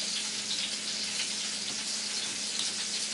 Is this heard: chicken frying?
yes